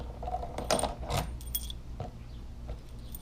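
A set of four locking keys for a motorcycle saddlebag system jangles in a few short metallic bursts, close and moderately loud, with brief gaps between shakes.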